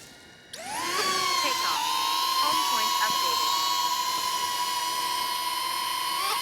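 A DJI Neo 2 drone spins up and flies close by, its high-pitched whining buzz rising sharply after a brief quiet start and then holding steady and loud.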